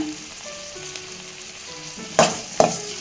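Tomatoes and curry leaves fry in a hot pan with oil, a steady low sizzle broken by two sharp louder crackling bursts as the ingredients hit the oil, close and with no talk.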